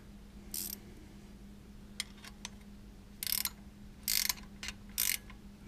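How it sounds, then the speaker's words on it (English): An LS oil pump pickup tube bolt is tightened by hand, heard as several short, crisp ratchet-like clicks and metallic ticks in separate bursts against a quiet, steady hum. "I'm gonna tighten it by hand."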